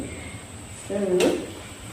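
Ginger paste frying in oil in a pan gives a short burst of sizzling and stirring midway through, rising over a steady low kitchen background before fading back down.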